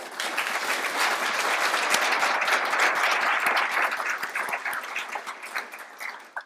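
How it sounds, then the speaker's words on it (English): Audience at a climate discussion event breaking into sustained applause, a dense wash of many hands clapping that holds steady and then tapers off near the end. "We should give her and all of them a round of applause."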